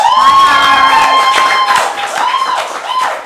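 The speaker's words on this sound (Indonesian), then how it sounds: "Boleh tepuk tangannya dong?" Podcast studio audience cheers loudly with high shouts and whoops over scattered clapping, a lively close crowd burst that carries through the whole moment.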